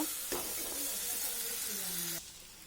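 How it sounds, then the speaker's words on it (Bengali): Onion and green chili frying in white oil in a kadai, giving a soft continuous hiss and sizzle that stops abruptly near the end; fairly quiet and close, with no talk. "পেঁয়াজ আর কাঁচা লঙ্কা ভালো করে ভেজে নেব।"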